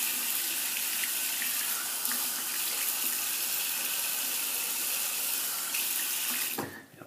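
Steady water running from a tap while wet shaving, a continuous close hiss that cuts off abruptly near the end.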